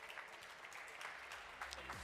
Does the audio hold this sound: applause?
yes